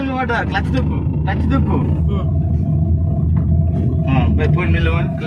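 A vehicle engine rumbles steadily and loudly while driving, with gears being changed, its deep drone continuous throughout as voices talk over it.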